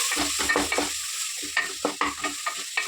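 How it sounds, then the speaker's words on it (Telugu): Chopped tomatoes sizzle in a hot pan while being stirred, a dense, close frying hiss punctuated by repeated scraping and tapping strokes of the spoon at an uneven rhythm. "కొంచెం కలుపుకుంటూ మనం ఫ్రై చేసుకున్నాం టమాటాలని"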